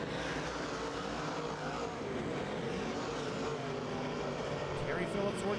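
Race cars battle through a speedway heat race, their engines roaring in a steady, loud, continuous drone as the field runs together, with an announcer talking over the noise.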